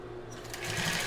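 A sewing machine hums in a fast, steady run while stitching a child's bra, close and clear with no talk over it.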